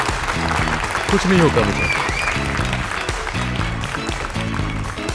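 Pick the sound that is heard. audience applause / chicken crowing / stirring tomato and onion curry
audience applause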